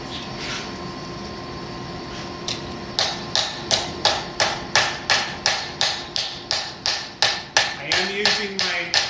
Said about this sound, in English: I'm just letting that hammer drop from a few inches